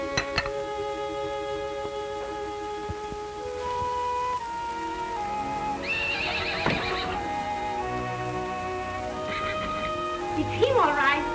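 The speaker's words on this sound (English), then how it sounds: "It's your horse. Standing out there as pretty as can be." A horse whinnies loudly with rising, wavering calls, hooves shuffling nearby, against a steady background hum.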